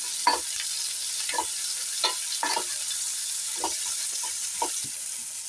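Mushrooms sauté for a restaurant-style gravy in a kadai, a steady gentle sizzle broken by repeated scraping stirs of a spoon against the pan, close and alone.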